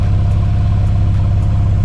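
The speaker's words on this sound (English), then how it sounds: "starting the engine, I'm just gonna wait until it warms up" A 2015 Porsche Carrera 911 4S (991.1) idles steadily while warming up after an oil change, a continuous low engine rumble, close and loud, with no voices.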